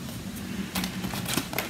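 Paper snips cut through cardstock while a stamped card layer is being made, giving a few short, crisp snipping crunches at close range, with no talking.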